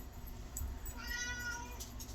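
A cat meows close by, one drawn-out call rising and falling in the middle of the clip over a low steady hum, with no talking.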